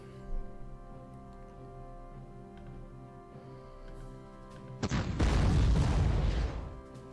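Tank attack explosions in the Panzer Corps strategy video game: after a quiet stretch with light ticks and a faint early pop, a loud, deep blast erupts and rumbles for about two seconds before fading.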